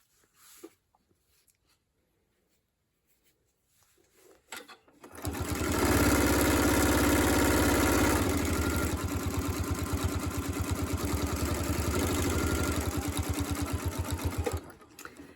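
A sewing machine stitches binding onto a quilt with a 1/4 inch seam, starting after a few soft handling noises, then running as a loud, steady, fast mechanical whir for about nine seconds before stopping.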